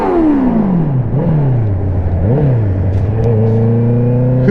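A 2019 Honda CBR650R motorcycle revs hard beneath a small bridge, its engine note climbing and falling in sharp repeated throttle blips before settling into a loud, steady high drone, close and echoing.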